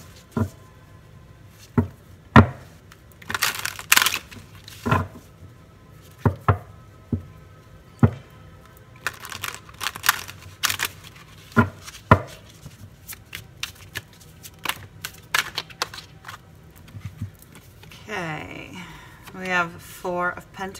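Tarot cards are shuffled by hand in repeated sharp riffling bursts and taps, close and loud, with a person talking between and over the shuffles and a softer stretch of handling toward the end.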